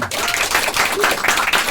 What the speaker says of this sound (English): So maybe we'll give them a big round of applause and welcome.